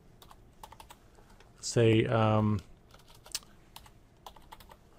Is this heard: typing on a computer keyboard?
yes